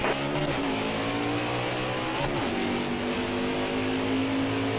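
A Days of Thunder video game race car pulls off pit road, its engine droning loud and continuous, with a brief gear shift partway through before the pitch settles higher.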